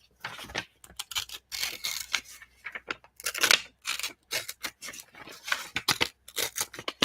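Vintage music paper is torn by hand in a run of quick, crisp ripping bursts with short pauses between, close and fairly quiet.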